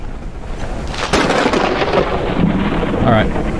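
A thunderstorm in the game Forever Skies bursts into a loud crack of thunder partway through, followed by a sustained heavy rumble and rain noise, with a faint tonal blip near the end.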